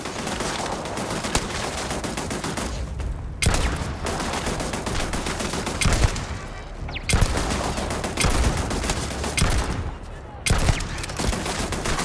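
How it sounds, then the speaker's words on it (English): Enemies open fire in the space game Starfield, with loud, dense volleys of automatic gunfire rattling almost continuously, broken by a few sharper, heavier shot bursts. "Oh yeah, nope, they're gonna start shooting at us."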